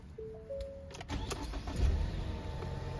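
A car engine with an O2 sensor fault code cranks briefly with a whirring starter, then catches and settles into a steady idle, close and clear, with no speech.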